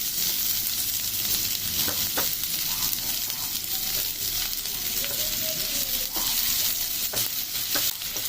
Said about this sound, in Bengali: তো পেঁয়াজটা আমার হালকা ফ্রাই হয়ে গেছে